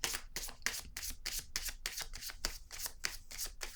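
Tarot cards being shuffled and drawn by hand, a rapid run of crisp riffling bursts in a steady rhythm, close and fairly quiet, with no voice.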